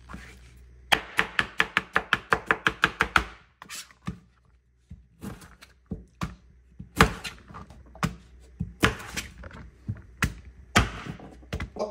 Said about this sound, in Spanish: Procedemos a cortar cebollas en julianas y limones.